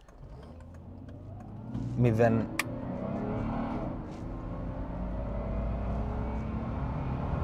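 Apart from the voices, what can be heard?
Mercedes car launching and accelerating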